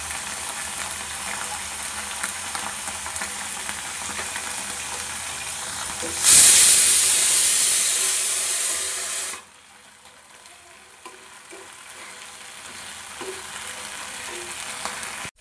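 Sauces such as green chilli sauce and soy sauce hit a hot frying pan while cooking soy chunk kofta curry, with a sudden loud sizzling burst that hisses strongly for about three seconds and then drops back to a quieter background fry.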